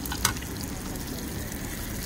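Butter sizzles in a hot pan with a ribeye steak and rosemary, a close, steady frying hiss with one brief sharp crackle near the start.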